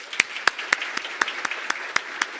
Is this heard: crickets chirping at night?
no